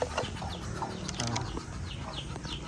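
Chickens cluck and squawk softly nearby, with scattered bird calls and a few wing flaps, no voices.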